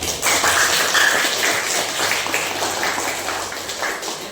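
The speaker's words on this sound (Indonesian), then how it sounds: "Tepuk tangan dulu." A classroom of students claps hands together in a steady, dense patter of close applause for a few seconds, with no talking over it.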